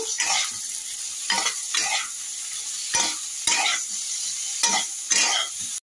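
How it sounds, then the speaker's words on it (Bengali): Repeated scraping stirs of spices in a hot frying pan, a steady sizzle underneath with several distinct spatula strokes, close and fairly loud, no voices. "দিয়ে আবার একটু নাড়বো।"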